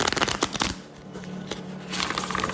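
Tarot cards are shuffled in a quiet room, a few quick riffling bursts of papery flutter close by, with short pauses between them.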